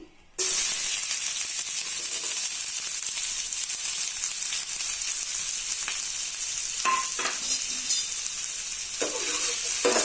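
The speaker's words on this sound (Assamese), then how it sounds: "এয়া তেল গৰম হ'ল মই ইয়াত পিঁয়াজ দিম" Onions hit hot mustard oil with a sudden loud sizzle that settles into a steady, crackling fry, broken by a few spatula scrapes.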